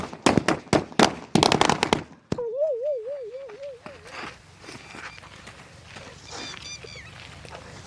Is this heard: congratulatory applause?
no